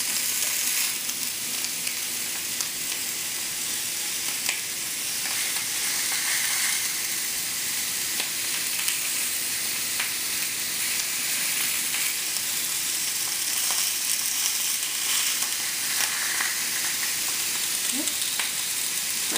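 Tandoori chicken sizzles steadily on a grill as it takes on black grill marks, a dense, even crackle and hiss running close and loud with small pops, no talk.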